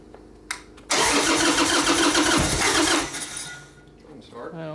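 Harley-Davidson Sportster motorcycle engine cranking and catching with the choke on, a loud sudden start that runs steadily for about two seconds, then drops to a lower idle as a person speaks nearby.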